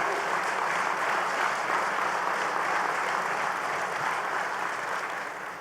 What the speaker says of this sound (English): Let's give Nan a round of applause